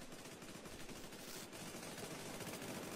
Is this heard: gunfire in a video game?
yes